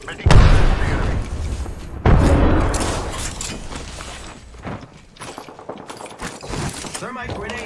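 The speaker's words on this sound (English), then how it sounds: "Frag out!" Frag grenade blasts in a video game: two heavy, booming detonations land about two seconds apart, each decaying into a long rumbling roar, followed by scattered crackling battle noise with voices in the mix.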